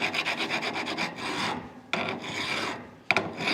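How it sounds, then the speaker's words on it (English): Rust is ground off a front brake part of a 2016 Chevrolet Suburban LT, making close, rhythmic rasping strokes that start quick and regular, then turn into longer scraping passes with brief pauses. "what we need to do is we need to grind this area just a little bit."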